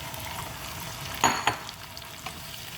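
Marinated chicken liver hitting a hot pan with garlic and chili, a soft steady sizzle punctuated by two sharper spits and stirring clatters.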